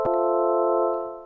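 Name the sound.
sample sound before granular synthesizer processing, Padshop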